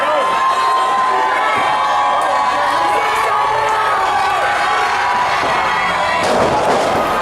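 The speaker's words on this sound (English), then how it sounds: "Listen to that crowd." A wrestling arena crowd cheers loudly and continuously during a match, a dense roar of voices with shouts and whistles rising near the end.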